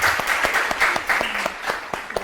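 Sparse, uneven applause from a small audience at a talk show, with individual sharp claps standing out and faint talk underneath.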